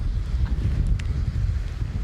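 Strong, gusting wind of Storm Agnes buffets the microphone as a DJI Mini 2 drone flies into it, making a continuous, loud low rumble with no pauses.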